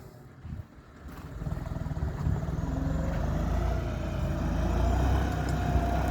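A John Deere 5050E tractor pushes and packs soil, its engine rumbling low and steady, swelling after a brief quieter moment and holding a loud, close drone to the end.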